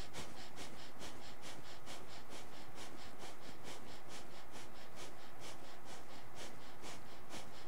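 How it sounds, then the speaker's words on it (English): Breath of fire breathing exercise with eyes closed: a fast, steady rhythm of sharp nasal exhalations, roughly two pulses per second, continuing evenly and fairly faint throughout with no talking. "And you begin breath of fire."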